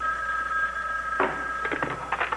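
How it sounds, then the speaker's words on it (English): A telephone rings in a home scene from a TV drama, several fairly faint repeated trill bursts over steady background hiss, with no talk. "I was hoping Mrs. Capel would answer the phone"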